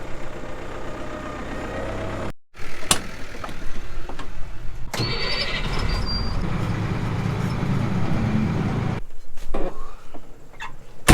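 A truck engine runs steadily on a busy roadside beside a wet field, with a brief cut near the start and a loud, continuous mid-range rumble that holds alongside scattered clanks and knocks.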